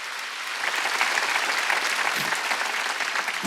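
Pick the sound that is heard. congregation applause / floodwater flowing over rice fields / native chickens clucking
congregation applause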